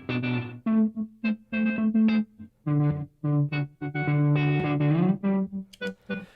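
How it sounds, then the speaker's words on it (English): Electric guitar notes, with reverb, sound in chopped, pulsing bursts through a Chase Bliss Clean sidechain pedal, swelling and cutting off abruptly in a rhythmic gated pattern. "here's what the guitar sounds like with the sidechain"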